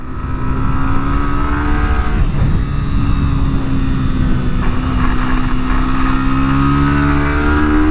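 Yamaha 125 motorcycle accelerating on a race track, engine note rising loudly and close, with a brief dip at a gear change into third before climbing again; no talk.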